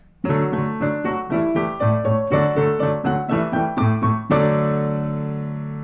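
Piano playing the Antiques Roadshow theme, a steady sequence of chords with a moving bass line, ending on a held, ringing chord that slowly fades.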